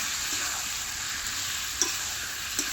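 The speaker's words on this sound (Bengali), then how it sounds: "এবারে ভালো করে কষিয়ে নেব।" Liver and stomach curry being stirred and fried in a pan over a wood fire, a steady sizzle with a few soft scraping stirs rising briefly above it, close and fairly quiet.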